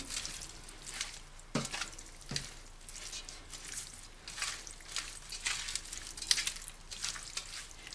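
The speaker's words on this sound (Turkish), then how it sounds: "Hamsilerimi tuzla şu şekilde biraz ovuyorum." Raw anchovies being rubbed with salt by hand, a close, continuous wet squishing and rustling with a few sharper taps, and no talking.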